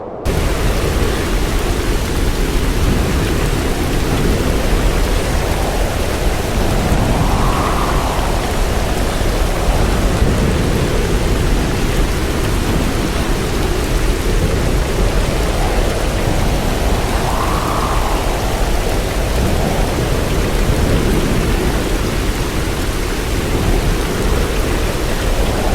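Heavy typhoon rain and roaring wind from Super Typhoon Krathon making landfall in southern Taiwan, a loud, dense, unbroken downpour with swelling gusts rising and falling throughout.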